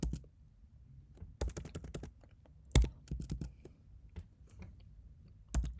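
Python code is typed on a computer keyboard in quiet, uneven bursts of crisp keystroke clicks with short pauses between them.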